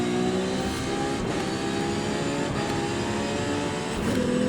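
A 2017 Ferrari GTC4Lusso engine in Forza Horizon 5 holds a loud, steady high rev, with brief dips as it shifts up through the gears.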